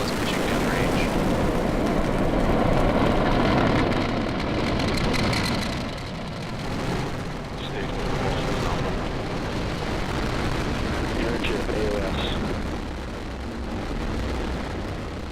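A SpaceX Falcon rocket lifts off carrying a Dragon CRS-17 cargo spacecraft, its loud, continuous crackling roar filling the scene with rumbling that swells and then steadies, while voices talk faintly underneath.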